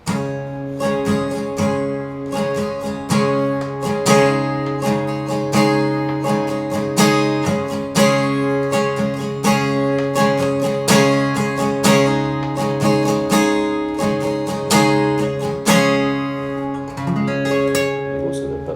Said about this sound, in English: Strum the G and then hammer your index finger.